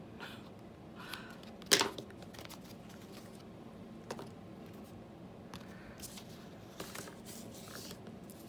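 Scissors cut through tape while a tissue box cover is being made, giving one crisp, close snip early on against a quiet room with a few faint handling clicks.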